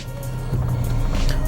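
A manual car pulling away in first gear as the clutch is slowly let out with no throttle, a steady low engine hum rising slightly in a close, continuous drone.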